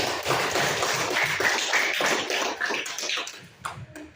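A class of students claps together in a classroom during a geometry lesson, a dense, steady patter of many hands lasting several seconds before thinning out near the end.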